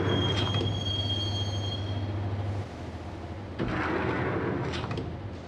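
A subway train in the Max Payne video game rides toward Roscoe Street Station, giving off a steady heavy rumble with a thin high squeal of the wheels that fades midway, then a brief surge of clatter, with no voices.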